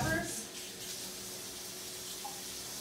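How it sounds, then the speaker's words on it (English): Tap water runs in a soft, steady stream while limes and peppers are rinsed under it at a kitchen sink, a faint continuous wash with a brief splash near the start. "we're gonna wash our limes and our peppers,"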